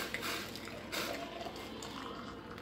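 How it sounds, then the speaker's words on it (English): Hot water splashes and trickles over tea in a glass jar for a few seconds, soft and close, with no talking. "I'm going to pour the water over the tea."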